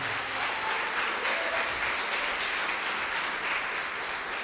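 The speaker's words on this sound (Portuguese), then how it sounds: "dá uma salva de palmas ao Senhor" A church congregation claps during a sermon, a broad, even wash of applause sustained throughout at moderate distance with no voices over it.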